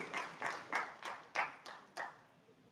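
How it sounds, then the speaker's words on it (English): Hand claps from an audience at a civil society meeting on street-connected children, six slow, distinct claps, each one faint and separate from the next. "those hand claps are very strong"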